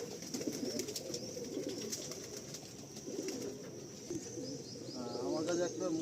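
Pigeons coo softly and flutter inside a loft of Madrasi and Andhra birds, their low murmuring calls continuing under nearby voices.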